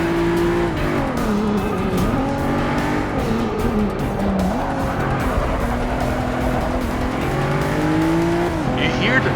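Racing car engines roar in Forza Motorsport 6: Apex as tires squeal through turns, with a voice talking over the continuous engine noise.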